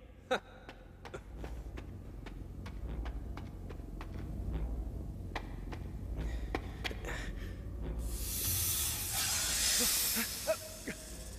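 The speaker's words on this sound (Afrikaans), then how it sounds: "Julle is baie oulike slange." Snakes in an Aladdin cartoon give a faint, sustained hiss that swells into a louder rushing hiss near the end, with scattered soft clicks and taps throughout.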